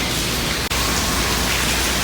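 Steady rain falls outdoors as a dense, even hiss with no let-up and no voices.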